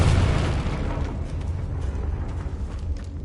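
Explosive Confringo spell blast in Hogwarts Legacy, a deep booming burst at the start that rolls into a long, rumbling low tail and fades slowly without any voices.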